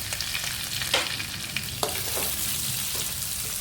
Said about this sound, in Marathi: जिरे टाकते मी।